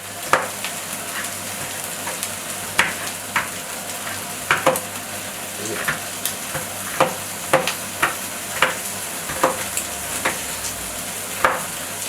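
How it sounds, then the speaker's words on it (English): Bacon fries in a pan with a steady sizzle and regular sharp pops and spatters, loud and close, with no one talking. "I hear the bacon already frying up, that's good."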